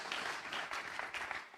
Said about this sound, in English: So please give him an applause and welcome.